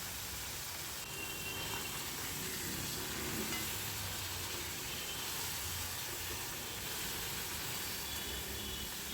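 Fish, a batch of about 200 small amudi, fry in plenty of oil with a dense, continuous bubbling sizzle and hiss that stays steady throughout, heard close without talk.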